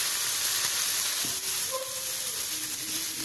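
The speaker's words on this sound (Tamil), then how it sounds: "வெங்காயம் நல்லா வதங்கிருச்சு. இப்போது புதினா கொத்தமல்லி போடுறோம்." Onions frying with mint, coriander and ginger-garlic paste in a pan for chicken biryani, giving a steady, close, even sizzle with faint stirring.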